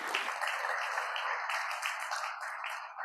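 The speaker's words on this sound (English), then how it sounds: "Give yourself a round of applause for that." Kiwanis club members at a Raleigh meeting give a steady round of applause, a dense, even wash of many hands clapping that holds at a moderate level for the whole stretch, with no voices rising above it.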